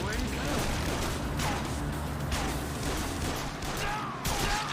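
Bursts of gunfire from bikers and their passengers during a chase in Yakuza 0, scattered shots and crashes over a busy, dense game mix, with someone talking briefly.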